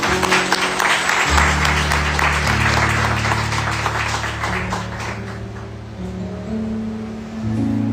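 A church congregation claps together in praise, a dense wash of applause over a steady low hum of instruments or amplification that sustains underneath and shifts pitch midway.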